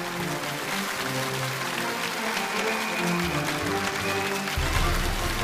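A studio audience applauds to welcome the guest, a university vice-president, onto the stage of a televised lecture show, a steady wash of applause mixed with music beneath.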